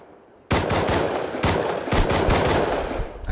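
Gunfire in the video game Rust Console, a loud sustained automatic burst starting abruptly and running for several seconds with a few distinct sharp shots marking the rhythm.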